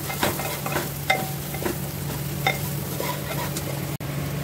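Garam masala, salt and other ground spices being stirred together in a hot cooking pan, with a steady low sizzle under repeated scraping strokes of a spoon, close and moderately loud, with no talking.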